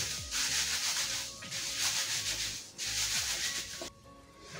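Garlic cloves rubbed firmly together by hand to loosen their heat-softened peels, a steady scratchy rustling that swells and eases in rhythmic strokes, close and fairly loud, stopping shortly before the end.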